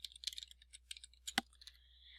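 Typing on a computer keyboard while entering search keywords, a quick irregular run of light clicks close up, with one sharper louder keystroke partway through and a thin steady tone lingering at the end.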